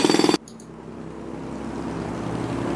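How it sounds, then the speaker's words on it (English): A city field recording sample: a steady low urban hum of distant traffic and engines, preceded by a brief loud rhythmic burst at the start before settling into the faint, continuous city ambience. "We have some field recordings, such as city recordings."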